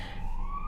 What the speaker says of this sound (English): if you hear sirens in the background